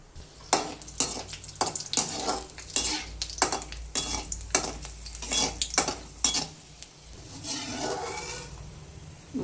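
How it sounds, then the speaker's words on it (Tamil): Cashews fry in hot ghee for beetroot halwa, a gentle sizzle under repeated sharp scrapes and clinks of a ladle stirring in the pan, close and brisk, with no talking. "முந்திரி போட்டு வறுத்துக்கலாம்"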